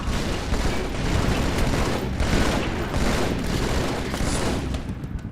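Sustained bursts of SMG fire from the Halo 2 video game, loud and continuous with rapid overlapping shots and a dense rattle throughout, with no talking over it.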